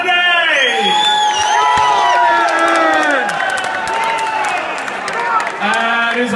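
A boxing crowd at a white-collar fight night cheers, whoops and applauds as a fighter is introduced to the ring. Loud, sustained shouting and high whistles fill the room and swell and shift throughout.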